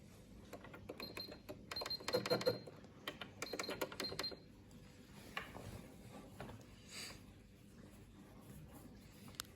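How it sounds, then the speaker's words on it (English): Home sewing machine running a stretch stitch to attach a cuff onto leggings, with bursts of fast mechanical clatter and whirring that come and go, then quieter ticking, soft and close. "I'm using a stretch stitch to attach the cuff to the leggings."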